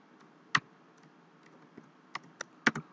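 Someone types C# code on a computer keyboard: sparse, separate key clicks close up, one stroke early on and then a quicker cluster of taps toward the end.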